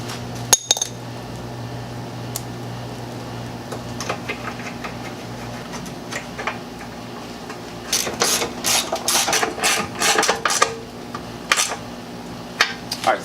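Screws being tightened while a Volkswagen Vento rear bumper is fitted, heard as a close ratchet clicking in quick, irregular bursts over a low steady hum. The clicking grows busier and louder toward the end.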